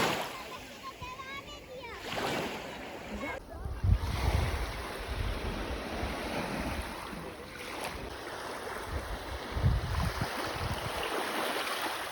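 Sea waves wash along a clear coast at Taşucu near Adana, with steady surf, gusty wind buffeting the microphone and a few louder surges, while a person talks over it.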